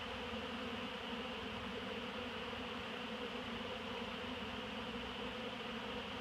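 A honeybee swarm hums steadily and densely while marching into a hive box, a constant close insect drone with no pauses or talk.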